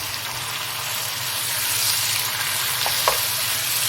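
Tomatoes, green chili, salt, chili powder and turmeric fry with chicken and okra in a pan, giving a steady, close sizzle that runs throughout with a few small stirring clicks near the end.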